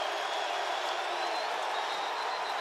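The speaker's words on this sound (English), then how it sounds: "Listen to this Grizz crowd." Montana Grizzlies fans fill the home stadium with sustained noise at an FCS playoff football game against South Dakota State, a constant, broad roar of cheering and clapping from a distant mass of people.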